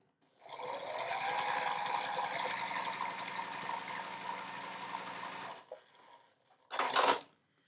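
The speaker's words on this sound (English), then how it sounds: "I'm going to turn it and sew along the other side" A sewing machine runs steadily for about five seconds, stitching a seam through scrap quilt fabric, then stops, followed by a short burst of handling noise.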